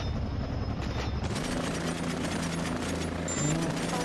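A helicopter in the Cepheus Protocol video game makes a steady rhythmic rotor thump with a dense, droning rumble. It runs continuously and fairly loud across the whole stretch.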